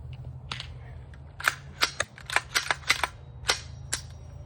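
Sharp metallic clacks and rattles from an AR-15 rifle as a malfunction is cleared and a drum magazine is dropped, about ten distinct close impacts in an irregular burst over a low steady background rumble.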